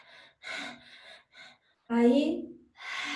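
A voice mimics the last gasping breaths of a dying person, with short rough intakes and one longer drawn breath mixed into speech.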